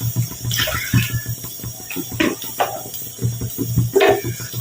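Tamarind water poured into a curry pan while making a Tamil okra kara kuzhambu, a close splashing, gurgling pour with sizzling bursts, steady throughout at moderate loudness, no talk.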